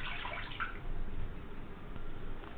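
Water being poured into a hot pan on the stove, a steady close splashing and hiss that runs throughout.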